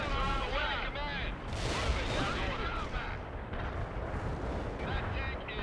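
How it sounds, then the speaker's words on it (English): Artillery barrage pounding a target area in the World in Conflict strategy game, with dense overlapping booms and rumble throughout, mixed with battlefield radio voices and unit chatter. "Artillery barrage here in the target area is in dust."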